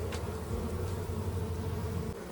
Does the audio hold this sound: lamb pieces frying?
no